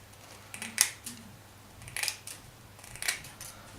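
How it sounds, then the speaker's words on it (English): Scissors trimming plastic mesh for a model fence, three separate crisp snips spaced about a second apart, close and quiet, with no talking. "take a pair of scissors"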